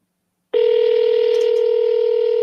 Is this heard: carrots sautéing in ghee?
no